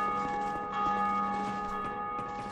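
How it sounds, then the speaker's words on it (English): A bell in Dark Souls 2 rings with a sustained, resonant metallic tone, layered overtones hanging steadily at moderate volume for the whole stretch, with faint clanks beneath. "Oh, I just rang the bell."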